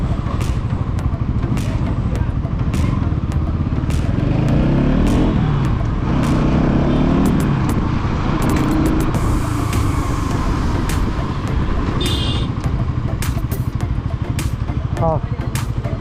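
Motorcycle engine idling and running continuously during a service to fix an ECU problem, a steady close rumble heard throughout under people talking, with occasional revs and clicks.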